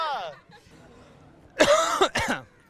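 A person gives two sharp, close coughs in quick succession after a short, quiet pause, with faint speech-like sounds just before.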